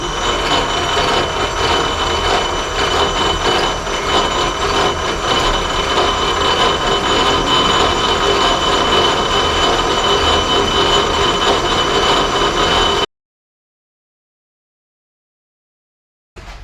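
Lathe machining pass on a Workhorse master cylinder, cutting 20 thousandths off, a steady broadband grinding whir that runs continuously for about thirteen seconds, then stops abruptly into silence before a brief resumption.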